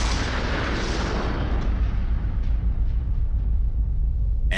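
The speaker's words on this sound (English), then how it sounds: "On our second round of shots at the tannerite, we decided to take the shot at the same time." Rifle shots detonating a tannerite target, played in slow motion, producing a stretched, rumbling boom that dominates at first and then slowly decays into a low, drawn-out roar.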